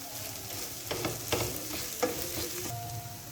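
Okra chutney with spices being stirred in a hot pan, a quiet sizzle of frying under scattered spoon scrapes and taps against the metal, with no talking.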